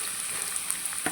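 Onions fry in hot oil with cinnamon stick and bay leaf for chana masala, giving a brief, close, bright sizzling hiss with small pops and one light scrape near the end.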